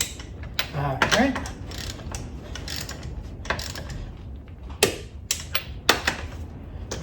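A Capri Tools 1/2-inch split beam flex-head torque wrench tightening car lug nuts gives a few sharp, close clicks in quick succession near the end, after quieter creaking and ratchet movement.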